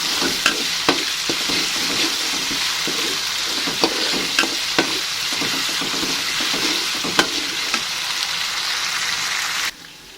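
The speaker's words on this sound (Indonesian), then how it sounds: "Kita tumis sampai benar-benar matang ya, teman-teman." Spice paste for oncom sizzling steadily as it is stir-fried in a pan, with irregular scraping and stirring clicks over a continuous frying hiss throughout, no voices.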